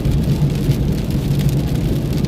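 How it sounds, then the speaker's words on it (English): Heavy rain pours steadily during a thunderstorm in Breckenridge, Texas, a dense continuous roar with a low rumble of thunder underneath and no talking. "Raining hard and loud thunder."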